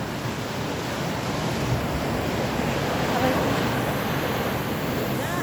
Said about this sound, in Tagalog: kasi ang lakas ng alon